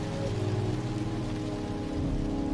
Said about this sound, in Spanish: el sonido constante de la lluvia no se lo permite